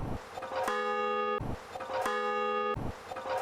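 Bell rings out three times in even succession, each strike bright and ringing with a long sustained tone, clear and prominent as a sound effect.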